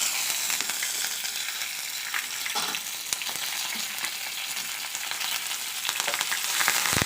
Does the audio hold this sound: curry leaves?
yes